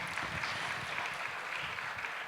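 Conference audience in a hall applauding the speakers after a talk, a brief, even burst of moderate clapping with no talk.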